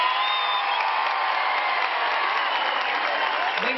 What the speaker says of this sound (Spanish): Aplausos y gritos para la abuela.